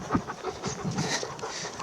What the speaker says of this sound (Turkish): Şu an yanımda 7 tane köpek var.